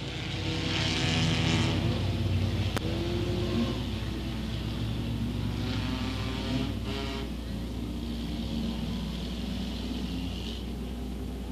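Front-wheel-drive race cars circling Crossville Raceway in a feature race, a steady engine roar with passing cars rising and fading, heard at moderate distance and fairly faint.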